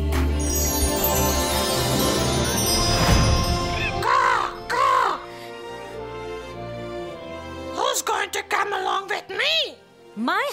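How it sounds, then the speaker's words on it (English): A raven in an animated Japanese fairy tale gives several harsh, ringing caws in separate bursts, loud and close, with music and a speaking voice in between. "The next day, Hung and Yen awaited the raven"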